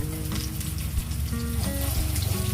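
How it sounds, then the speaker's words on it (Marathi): Bangda (mackerel) kebabs frying over low heat in a pan, a steady close sizzle with crackling and spattering that carries on continuously throughout, with no voices. "असे आपण सर्व एक एक करून व्यवस्थित परतून घेऊन फ्राय करायचे"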